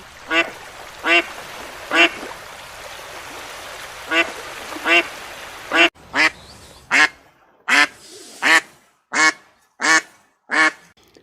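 A duck quacks in a long series of about a dozen sharp, evenly spaced calls, loud and close, with only faint background hiss between them.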